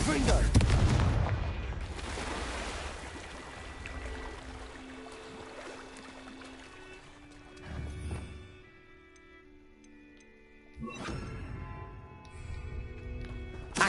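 Spell explosions burst in Hogwarts Legacy: a loud booming blast at the start fades into rumble, then two more thuds follow later among game sounds, with speech heard throughout.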